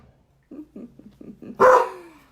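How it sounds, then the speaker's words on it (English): A dog gives a run of short, rhythmic woofs, then one louder, sharper bark close by. "we may have a few interruptions today because people are walking their dogs"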